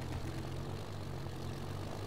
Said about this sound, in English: I'm flying a plane super low.